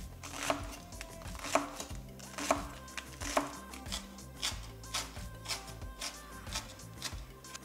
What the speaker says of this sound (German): dafür werde ich zuerst die Frühlingszwiebel fein hacken